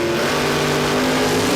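Drag racing cars launching off the line at a Queensland drag racing championship, a loud continuous engine roar filling the short stretch with no pause.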